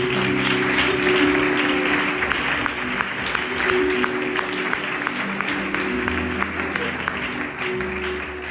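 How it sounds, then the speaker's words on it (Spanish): A church congregation applauding during a Bible study service, with sustained, dense clapping from many hands throughout, steady and fairly loud, with a sustained tone under it. "Vamos a dar un aplauso al Señor, hermano"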